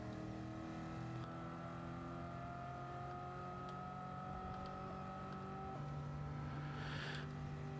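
An onboard race car engine in Gran Turismo 7 drones steadily and loudly, its pitch rising and falling through the gear changes, with no talk over it.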